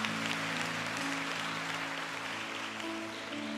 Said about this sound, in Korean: 우리 귀한 말씀 전해주신 목사님께 다시 한번 뜨거운 박수로